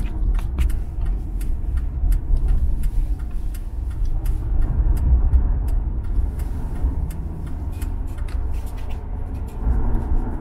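Steady low road rumble from a car driving along, with scattered small ticks and rattles over the engine and tire noise, no voices.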